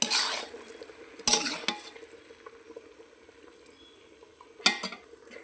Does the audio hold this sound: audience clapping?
no